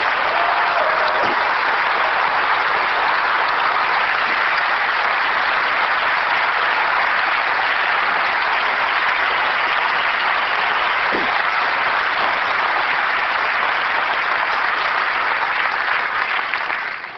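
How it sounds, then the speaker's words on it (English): A large audience applauds software engineers at a 1999 product launch event, steady, dense clapping that stays loud and even for the whole stretch, with no talking over it. "I would like to give a round of applause to all of our software engineers in the audience"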